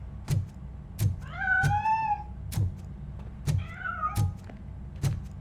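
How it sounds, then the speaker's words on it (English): A cat hiding inside a piano in Robocop: Rogue City gives two clear, drawn-out meows between a regular series of heavy, thudding footsteps. "That cat must be hiding inside."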